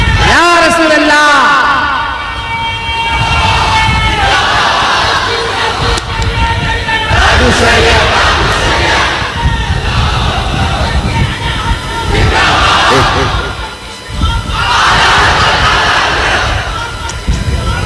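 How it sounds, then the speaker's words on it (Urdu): A crowd at a religious sermon chants slogans such as Allahu Akbar in loud, repeated surging bursts, with a voice leading between the swells. "بیٹا نعرے کم لگاؤ"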